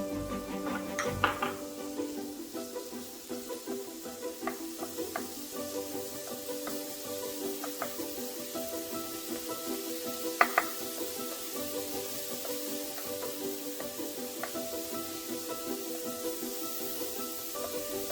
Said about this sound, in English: We're just gonna kind of like saute this on medium heat